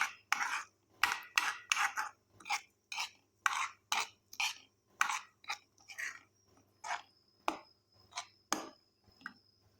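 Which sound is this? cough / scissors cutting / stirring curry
stirring curry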